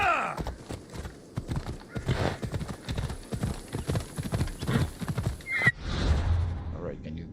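Horse hooves clip-clop in a steady trotting rhythm in Assassin's Creed Odyssey, with a brief whinny near the end, moderately close, under intermittent talk from a player.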